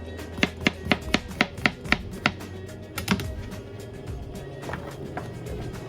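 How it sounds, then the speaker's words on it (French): Knife chopping courgettes on a cutting board: about eight crisp, evenly spaced chops, close and clear, then a couple of scattered knocks and quiet board handling. "on va passer aux courgettes, qu'on va laver bien sûr, et découper"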